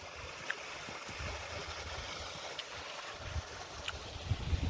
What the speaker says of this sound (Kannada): ಮಸ್ತ್ ನೀರು ಎಷ್ಟು ಚಂದ ಬೀಳಾತತ್ ನೋಡ್ರಿ